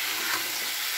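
Spiced amudi fish chochchori with softened vegetables being stirred in an uncovered pan, giving a steady, close, dense sizzle of frying with no breaks.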